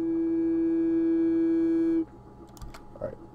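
A Serum software synthesizer plays a saw wave with frequency modulation, a steady, buzzy sustained tone held for about two seconds before cutting off, followed by faint clicks.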